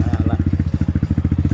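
A CX250R motorcycle engine misfiring at idle, loud and close, with rapid uneven chugging pulses in a steady rhythm that stutters irregularly.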